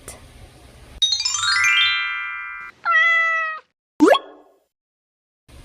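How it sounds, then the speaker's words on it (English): A cartoon-style cat meows in a short, bright tone between a plop, a rising ding-like chime and a quick swoosh, set among separate playful sound effects, with no voice. "cat"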